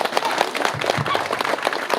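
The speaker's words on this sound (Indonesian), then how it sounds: "Titiang minta tepuk tangan majalah" A live comedy show's crowd breaks into steady applause, a dense unbroken wash of clapping that stays loud for the whole stretch, with voices mixed in.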